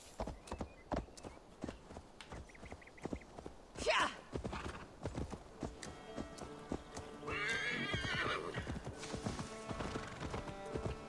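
Horse hooves clip-clop steadily in Assassin's Creed Valhalla, with a loud neigh and whinny breaking in partway through, close and clear over game ambience.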